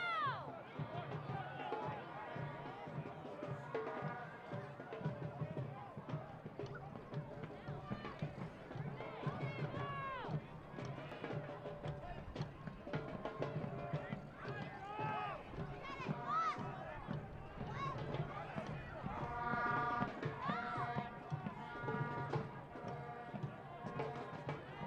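A stadium crowd at a Union Omaha versus Charlotte Independence soccer match urges the team on, a steady roar of cheers and chanting throughout, with a commentator's voice talking over it.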